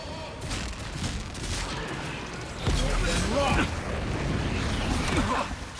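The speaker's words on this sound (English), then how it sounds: "Fireball." In the video game Avowed, a fireball spell goes off amid combat, with bursts of explosive crackle and impact rumble over continuous battle noise and players talking.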